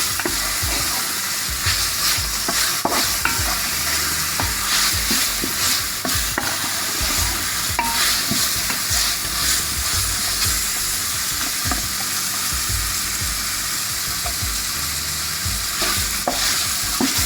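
Carrot and tomato being sautéed in a pan give a steady, close sizzle with repeated stirring scrapes throughout, no one speaking.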